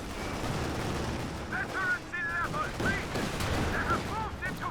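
Video game battle audio of an anti-tank gun and scattered gunfire, with dense rumbling booms and shots throughout, heard at moderate level under a commentator's voice.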